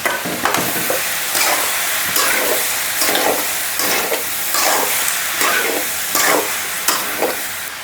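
Brinjal pieces go into a pan of prawns frying in oil, making a loud, close, constant sizzle broken by regular scraping stir strokes about every half second, with no one talking.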